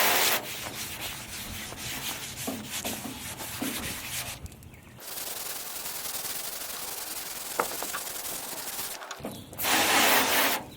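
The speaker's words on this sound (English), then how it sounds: "This is wet sanding, so don't be afraid to get it wet." Steady wet sanding on the paint of a 1972 Chevrolet El Camino, a continuous rubbing scrape that runs unbroken, with two short louder, brighter bursts of rubbing.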